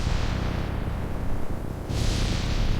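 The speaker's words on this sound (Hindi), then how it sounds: "आसमान में बिजली चमक रही थी और बादल जोर जोर से गरज रहे थे।" Thunder rolls during a storm as a deep, continuous rumble, with a heavier surge toward the end, loud and unbroken with no voices.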